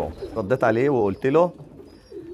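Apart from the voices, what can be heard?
meat pigeons cooing inside a pigeon loft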